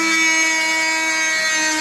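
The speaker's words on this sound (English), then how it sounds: "Next up we have the Bosch carbide versus the plain 2x4" A multitool fitted with a Bosch carbide blade buzzes through a plain 2x4, the oscillating blade giving a loud, continuous high-pitched whine close by without pause.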